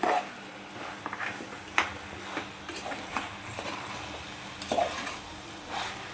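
Vegetable pulao rice being gently stirred in a pot, with soft scraping and light knocks of a spoon against the metal over a steady hiss.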